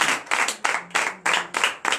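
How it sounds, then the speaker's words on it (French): A quick burst of hand clapping from a church congregation at a night deliverance service, seven sharp rhythmic waves of claps in steady succession, fairly loud and close, with no talking. "Donnez de vive l'acclamation à notre Seigneur, à Jésus pour sa vie"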